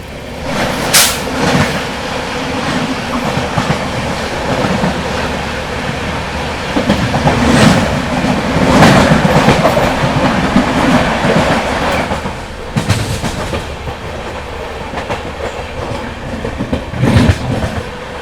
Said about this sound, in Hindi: सामने से आ रही है 12006 कालका